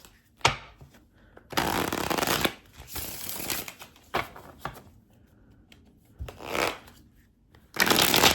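A deck of thin card stock Keymaster tarot cards being shuffled by hand, bursts of crisp riffling and sliding separated by quiet pauses, close and fairly loud.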